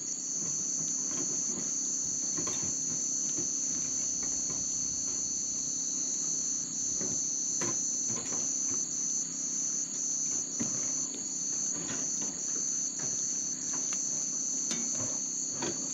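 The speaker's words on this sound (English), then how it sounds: "And we've also got grasshoppers and all sorts of stuff going on." Grasshoppers and other insects chirp at Cape Keraudren, a constant high, shrill drone with scattered faint clicks and ticks beneath it, steady throughout and without any voices.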